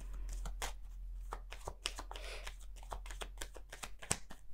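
Tarot cards shuffled by hand, a quick run of crisp riffling slaps and flutters close up, repeating steadily over a low background hum with no talking.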